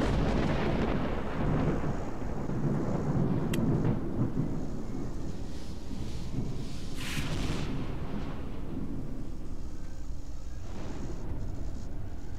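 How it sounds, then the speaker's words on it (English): Thunder during a night storm in the video game Lost Alpha, a long, loud, continuous rumble rolling without break, with a steady wash of rain-like noise beneath it. "That sounded like normal thunder."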